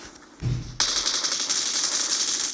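Rapid automatic gunfire from a battle royale video game, a sustained loud rattling burst that starts abruptly and continues steadily, close and alone without talk.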